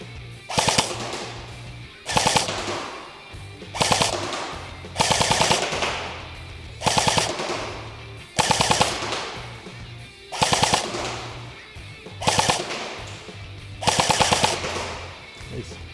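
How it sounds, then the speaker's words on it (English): Full-auto bursts from an Echo1 XCR polymer airsoft rifle firing at around 380 FPS into a target box, roughly eight rapid rattling strings with sharp pellet impacts and short pauses between them. "we're going to move on to fully automatic now"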